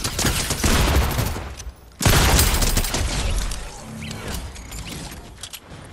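Shotgun fire in Fortnite Chapter 4 Season 1: two sharp, loud blasts about two seconds apart, each followed by clattering mechanical noise and quieter scattered shots, with no talk.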